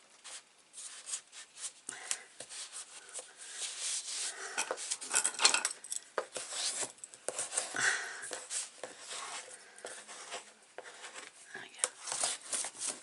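Paper for a mini scrapbook album is rubbed flat by hand to push out trapped air, giving soft irregular swishing and scraping strokes, close and fairly quiet, with brief pauses between passes.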